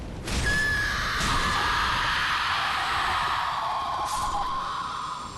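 Screaming tree enemies in the Dark Souls 3 video game let out a long, harsh, shrieking wail that swells and sustains for several seconds, loud and close, with a second cry layered in near the end.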